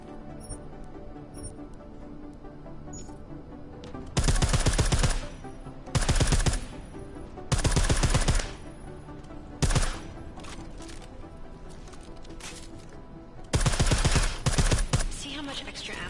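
Silenced weapons fire in the video game Deus Ex: Mankind Divided comes in several short loud bursts of rapid shots, separated by quieter stretches of ambient game sound.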